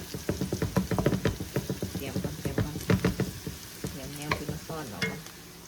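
Fish fries in an oil-filled pan with rapid crackling sizzle and a rhythmic series of sharp spattering pops, close up, with a voice briefly heard toward the end.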